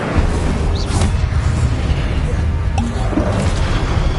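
An Incendio fire spell cast in Hogwarts Legacy, with a loud sustained rushing, roaring blast of flame and a few sharp impact crackles over a thick, noisy combat rumble.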